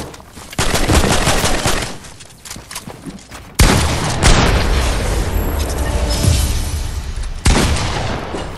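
Rapid video game gunfire rattles in loud bursts with booming impacts, dense automatic shots stopping and restarting several times, no talk.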